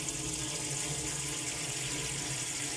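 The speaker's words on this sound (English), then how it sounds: "You've got plenty of water coming out, no air." Water rushing steadily out of a pressurised boiler heating system on a Lunar H592 unit, a constant close hiss with no break or voices.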